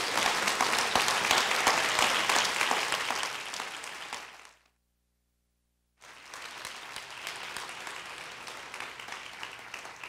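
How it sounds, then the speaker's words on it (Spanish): A church congregation applauds loudly for about four and a half seconds, a dense steady wash of clapping that cuts to silence, then resumes slightly softer and carries on to the end. "Denle un aplauso al Señor."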